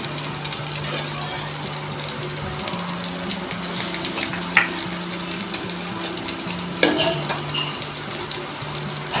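Ingredients for a samosa filling fry in a pan with a steady close sizzle, broken by a few light clinks and stirs of utensil against the pan, with no talking.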